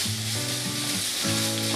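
Neem leaves crisping in a small amount of oil give a dense, even sizzle that holds steady. A voice runs underneath it.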